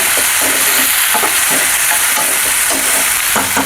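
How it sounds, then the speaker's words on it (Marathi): Chopped tomatoes fry in a hot pan with a steady, loud sizzle that stays unbroken throughout, with faint stirring scrapes and no voices. "आता तुम्ही कापलेले टमॅटो ॲड करून घ्यायची. ह्याला चांगलं असं सॉफ्ट करा आता"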